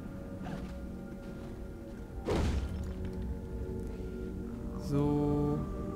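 A cannon weapon fires in the video game Alice: Madness Returns, giving a heavy booming thump midway over steady game music, with a second thudding blast near the end.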